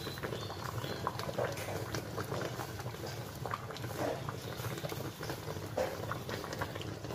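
Rice porridge boils in a pot on a smoke-free stove, a close, steady bubbling and gurgling with soft popping patter throughout and no talking.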